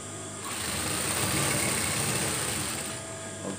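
Sewing machine stitching classic-style curtain fabric, giving a steady motor whir that runs for roughly two and a half seconds before slowing off, with no talking.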